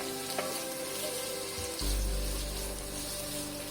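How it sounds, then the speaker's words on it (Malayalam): Onions sauté in a pan for a breadfruit masala curry, giving a steady close sizzle that swells into a louder, denser hiss about halfway through. "അപ്പൊ നമ്മുടെ സവാള ഒന്ന് മൂക്കട്ടെ കേട്ടോ."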